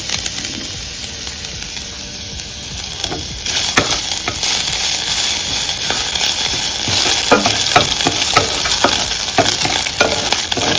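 Steady loud sizzling of lentils frying in a pan, with occasional scraping stirs cutting through the constant hiss.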